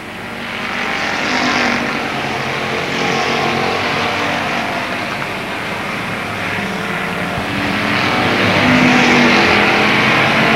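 Race cars lapping at Avilla Motor Speedway in 1995, loud roaring engines sweeping past in rising and falling waves, close and continuous.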